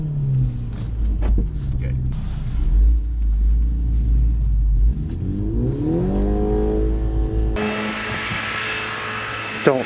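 Mini Cooper S, front-wheel drive, revving hard while spinning reverse donuts in snow, the engine note climbing and falling in sweeps over a deep rumble, with a brief spoken word from someone in the car.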